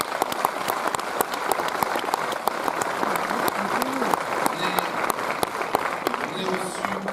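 Cinema audience applauding at a CGR film premiere, a wash of many hands clapping with sharp individual claps on top, while voices murmur and speak underneath throughout.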